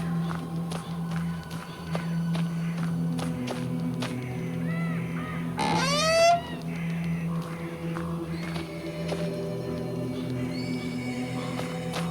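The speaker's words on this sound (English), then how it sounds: "A restless mischief of magpies is circling the telegraph post." Magpies in a video game circle a telegraph post at night, giving a burst of harsh, rising cawing calls near the middle of a steady ambient bed with scattered clicks and occasional faint chirps.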